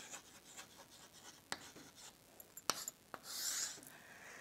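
Pen or chalk writing during a Hindi lecture on Type 1 and Type 2 errors in educational research, heard as faint scratchy strokes with a few sharp taps and a longer rasping rub near the end, with no talk.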